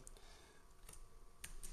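Arrow keys on a computer keyboard are pressed, giving a few faint, separate clicks spaced irregularly against a quiet room.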